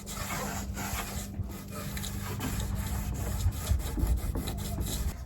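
Wood being rubbed and brushed with stain while finishing boards for a small budget DIY succulent planter box, a steady close scraping, swishing texture with low handling bumps running throughout.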